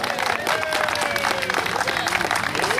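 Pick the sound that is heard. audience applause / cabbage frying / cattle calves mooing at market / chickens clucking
audience applause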